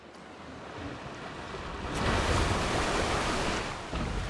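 A water ride splashes down in the game Planet Coaster on PS5, a broad rushing wash of water that swells midway and holds steady, loud and without speech.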